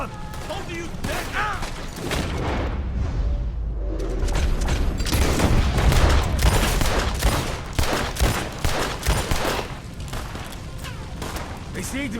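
Dense gunfire in Red Dead Redemption 2, rapid overlapping shots and booms rolling through a chaotic firefight, loud and sustained, with a voice talking over parts of it.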